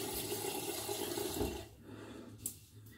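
Tap water runs steadily into a sink while a Mühle shaving brush is wetted, a soft hissing stream that stops partway through, leaving quiet room tone and a small clink.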